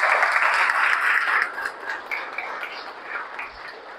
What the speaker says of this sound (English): let's have a huge round of applause for Toastmasters from Flipkart over here.